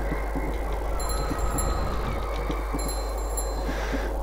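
Train sounds inside a Russian indie horror video game: a steady low rumble of a moving rail carriage with faint rhythmic knocks and a few high electronic tones, continuous and fairly loud with no voices.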